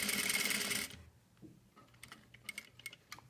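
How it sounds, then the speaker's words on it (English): A sewing machine runs a dense, steady burst of stitching through fabric, then stops abruptly, leaving a few quiet clicks and light taps of handling as the backstitch is finished and the work is adjusted. "I'm going to start right off with a backstitch"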